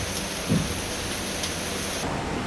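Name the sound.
rain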